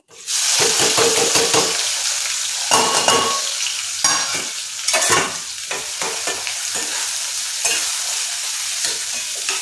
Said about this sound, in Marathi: तर यामध्ये मी आता कांदा आणि टोमॅटो फक्त घालणार आहे.